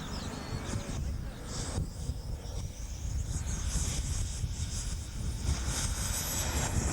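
F-100D Super Sabre scale model jet at a Scottish model airshow, a steady broad roaring whoosh that holds for several seconds with wind-like rumble, some distance away, no talk.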